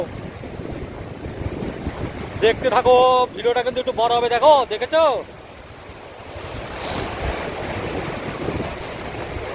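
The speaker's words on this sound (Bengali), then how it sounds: "এখন আমরা জলের স্রোত দেখাবো" A strong water current with waves, watched from a bridge in Karnataka, makes a steady broad rushing roar mixed with wind buffeting, while a person talks loudly for a few seconds partway through.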